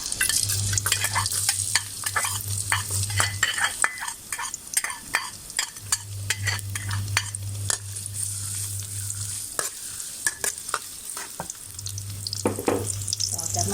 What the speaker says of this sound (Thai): ที่น้ำมันร้อนแล้วนะคะเราก็ ใส่กระเทียมลงไปเลยค่ะ